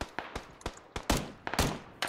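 Rapid video game gunfire, a run of sharp close shots in uneven bursts, some single and some doubled, crowding together over about two seconds.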